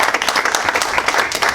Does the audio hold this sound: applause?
yes